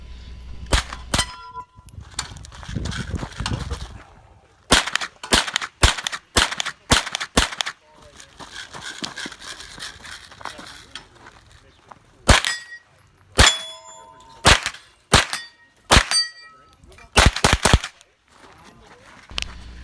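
Gunfire at a 3-gun match with carbine and shotgun, sharp shots followed by ringing clangs of hits on steel targets, fired in quick clusters separated by quieter stretches of movement between shooting positions.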